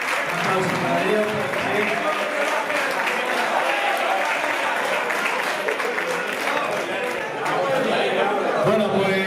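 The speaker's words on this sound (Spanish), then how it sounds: "Un aplauso para ellos." Steady applause from a crowd at a bullfighting gala in Segorbe, Spain, with chatter mixed in, sustained and fairly loud throughout.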